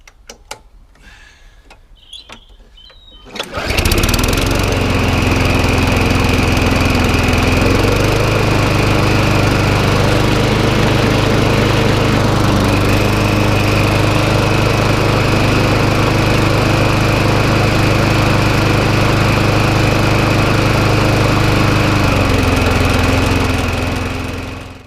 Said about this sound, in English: Another lawnmower bought back from the dead.